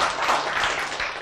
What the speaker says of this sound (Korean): 왜 박수를 쳐요?